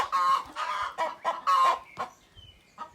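A hen cackles loudly after laying an egg in a run of repeated squawking bursts, close by, followed by softer clucks and a faint distant call.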